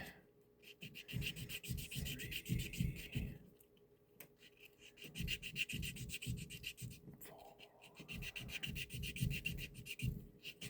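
Engine cylinders of a 1/32 Trumpeter TBD Devastator plastic model being sanded by hand, close soft rasping strokes in three quick bursts with short pauses between.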